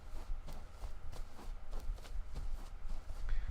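Footsteps shuffle in indoor slippers as a sound effect in a visual novel game, a quick run of soft, close scuffing steps heard on their own.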